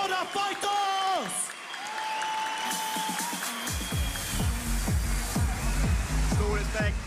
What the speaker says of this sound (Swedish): Mina damer och herrar, en stor applåd för båda fighters!